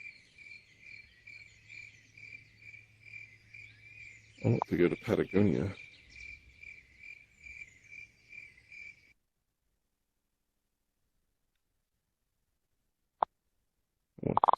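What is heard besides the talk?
crickets chirping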